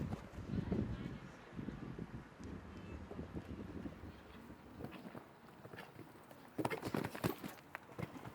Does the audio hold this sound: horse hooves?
yes